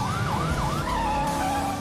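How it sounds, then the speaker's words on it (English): A wailing emergency siren sweeps up and down, then holds a steadier tone, loud over rumbling traffic noise. "I need lights and sirens."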